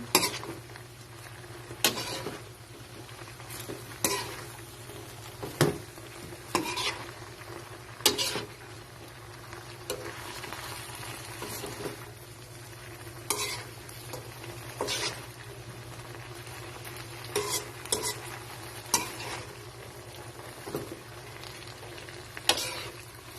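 Chopsuey vegetables, including cabbage, are stirred in a pan over steady frying sizzle, with a series of scraping and clattering strokes against the pan at irregular intervals, close and moderately quiet.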